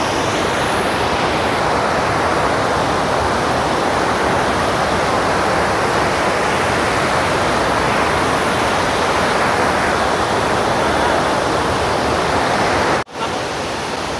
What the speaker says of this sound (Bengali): জলের আওয়াজ কিন্তু এখান থেকে শোনা যাচ্ছে।